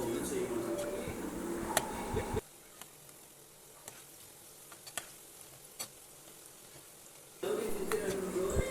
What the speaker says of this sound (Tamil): மீதி இருக்கிறதையுமே நம்ம ஆயிலில் சேர்த்துட்டு வேக வச்சு எடுத்துக்கலாம்.